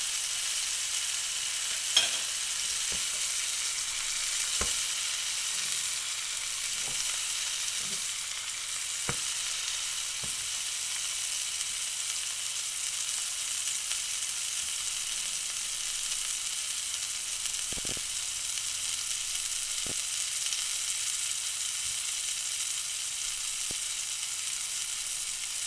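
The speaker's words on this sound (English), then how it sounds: "We're going to sear the other side for another couple of minutes." A grass-fed ribeye steak sears in a pan with a steady, even sizzle and scattered soft pops and ticks over about twenty-five seconds, with no voices.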